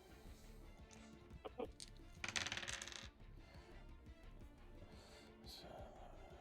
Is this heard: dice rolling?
yes